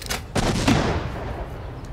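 Sharp blasts and a booming explosion from the video game Worms Reloaded erupt together, then a rumbling decay fades over the following second.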